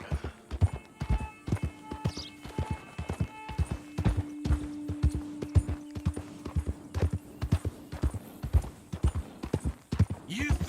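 Horse hooves clip-clop steadily in Red Dead Redemption 2, a close, regular walking rhythm continuing throughout, with voices talking over parts of it and a brief whinny near the end.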